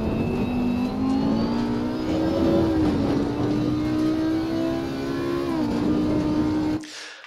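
A race car accelerates hard out of a corner at Oulton Park in the racing game Assetto Corsa Competizione, its engine note rising steadily and loudly through a gear, alone and continuous before cutting off abruptly at the end.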